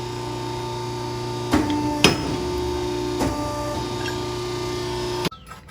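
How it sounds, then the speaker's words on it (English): A hole punch machine drives through a steel front bumper for a first-generation Toyota Sequoia, giving a few sharp metallic clunks over a steady mechanical hum, ending in a louder final snap. "Okay, so we just punched these holes out here."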